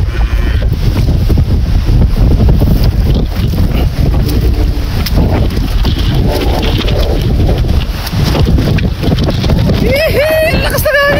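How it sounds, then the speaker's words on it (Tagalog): Strong typhoon wind buffets the microphone in loud, gusty rushes throughout, with a voice calling out near the end. "Lakas na hangin!"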